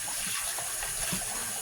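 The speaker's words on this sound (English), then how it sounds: "I open the tap again" A kitchen tap runs to rinse rice, a continuous hissing gush of water at close range with no voices.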